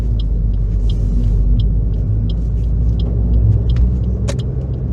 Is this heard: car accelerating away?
yes